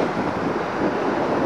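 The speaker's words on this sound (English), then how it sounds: "the wind is not letting me" Steady wind buffeting a microphone outdoors beside a Douglas C-54 aircraft, a continuous broadband rumble and roar that stays loud throughout with no break.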